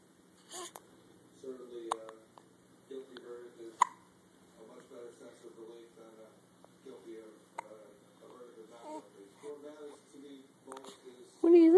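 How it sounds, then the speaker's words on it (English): Repeated short hiccups from a person, spread unevenly across the stretch with voiced sounds between them and a louder burst near the end. "You have the hiccups?"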